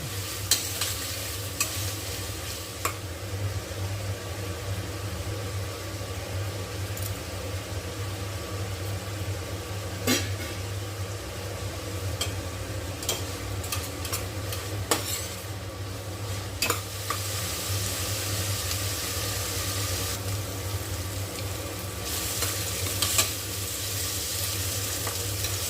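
Sliced onions cooking with salt for a country-style chicken gravy sizzle steadily and softly in a pan, with occasional sharp scrapes and taps of a spoon as they are stirred.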